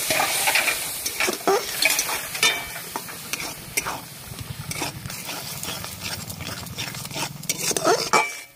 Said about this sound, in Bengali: এবার মশলাটাকে ভালো করে আমি কষিয়ে নেব।